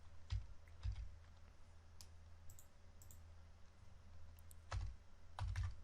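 Someone types code on a computer keyboard while adding a single-line comment in an Oracle PL/SQL tutorial, producing faint, scattered clicks and a few louder clusters of keystrokes, with no speech.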